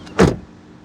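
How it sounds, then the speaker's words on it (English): Door of a 2025 Toyota Camry LE swung shut once, a single firm thud close by with a short fade into quiet. "let's check out the sound of the closing door"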